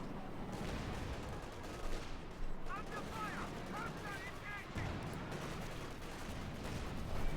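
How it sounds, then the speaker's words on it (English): Gunfire in Company of Heroes 2, with shots bouncing off a Panzer IV amid Maxims and mortars, crackles as a dense, continuous battle din under a steady rumble, with a few brief metallic pings rising partway through. "Shots bouncing off the Panzer IV"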